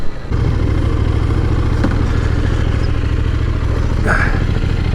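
A KTM 890 Duke R motorcycle rides through a bend on the road, its engine a loud, steady, throbbing drone over constant wind rush, heard up close from the rider's position.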